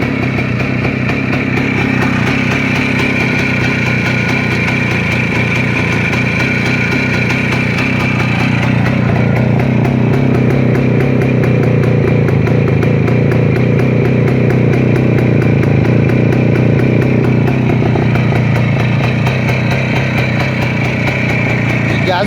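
A Voskhod motorcycle engine idles steadily after starting, a continuous close, throaty mid-pitched rumble with a slight rise in intensity midway, while someone talks over it.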